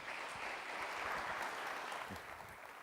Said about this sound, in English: So please give him a very warm welcome and a big round of applause.